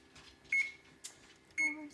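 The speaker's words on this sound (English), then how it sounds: "in that 30 minutes we're going to preheat the oven to 475" An oven control panel gives two short, clear electronic beeps at an even pitch while preheat is set to 475, close and quiet, with a faint click between them.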